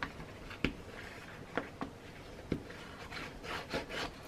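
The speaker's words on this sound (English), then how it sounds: "And I'm going to burnish." Glued fabric being burnished during a bookbinding job, heard as a few short, soft rubbing strokes spaced irregularly, close and quiet, with no talking.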